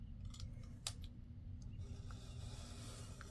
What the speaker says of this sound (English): I'm just going to use my knife cut from my score line